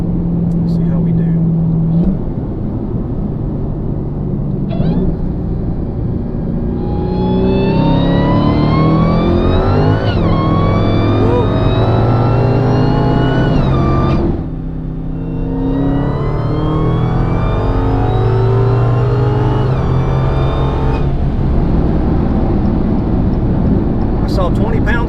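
A supercharged Dodge Hellcat on a test run revs hard in two long, loud acceleration pulls with rising engine pitch and supercharger whine, up close, with a short pause between them.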